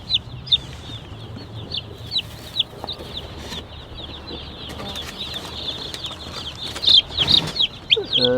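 Newly hatched meat chicks, about 150 of them, peep in an outdoor portable brooding coop: a steady chorus of high, thin chirps with occasional rustling and wing flutters, louder bursts near the end.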